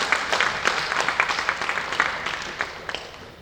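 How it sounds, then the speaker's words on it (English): An audience at a summer campaign launch event claps in a dense, fairly loud round of applause that slowly thins out toward the end. "Can you give yourself a round of applause?"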